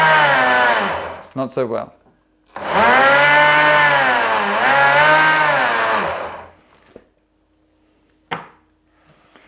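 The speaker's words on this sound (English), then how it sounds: "let's see how the Sunbeam Cafe series handles the pumpkin" A Sunbeam Cafe series blender churns pumpkin chunks in two loud bursts of whining, labouring motor, with pitch dipping as the load bogs it down, separated by short gaps and a brief spoken remark.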